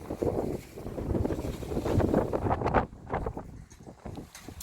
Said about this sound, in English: And the wind is starting to pick back up quite a bit too.